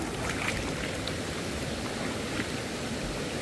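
A strong current on the Cavinti river rushes in a steady, dense wash of flowing water that stays even throughout, with no voices.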